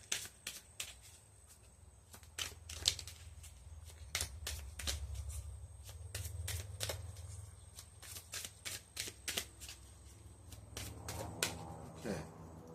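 Oracle cards from the I See World deck are shuffled by hand, a quiet run of crisp flicking and riffling snaps in irregular bursts, close by, over faint background rustle, with no talk.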